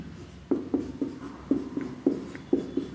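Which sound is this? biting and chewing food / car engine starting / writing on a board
writing on a board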